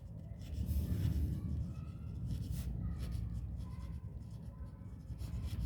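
Marker or chalk writing on a board during a maths lesson on triangles, with soft, steady scratching strokes close by and no talk.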